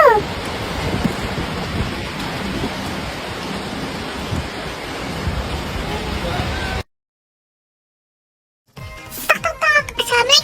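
A heavy storm downpour roars steadily and loud for several seconds, cuts to silence, then young voices talk over a quieter background.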